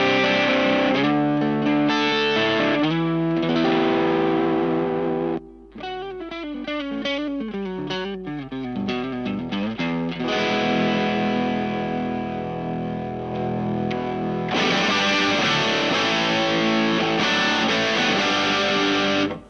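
Electric guitar played through a Caline Nightwolf dual fuzz and overdrive pedal, its Lord of the Underworld drive giving a loud, saturated, distorted tone; sustained chords break into choppier strummed notes midway, then ring out fully again.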